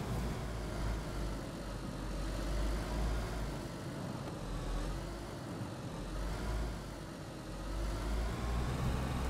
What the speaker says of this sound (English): Says that the car's loud as AF.